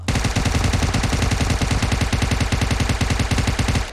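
Automatic gunfire in the mobile battle-royale game PUBG Mobile, a loud, rapid, unbroken burst of shots fired close up for the full four seconds.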